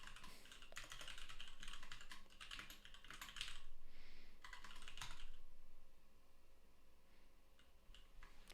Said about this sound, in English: that was a lot of typing, a lot of sort of grunt work typing in between steps